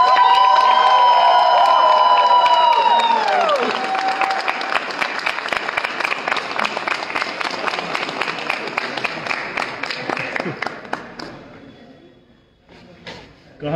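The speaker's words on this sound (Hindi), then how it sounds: "क्या ये तालियां तरुण भाई के लिए बहुत हैं क्या?" Sustained audience applause with some cheering at a motivational success event, dense and loud for most of the clip, then thinning out and fading near the end; tonal music plays under it at first.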